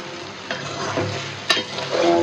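Dried loitta fish sizzles loudly in a hot pan as a spatula stirs and scrapes, with one sharp clank partway through.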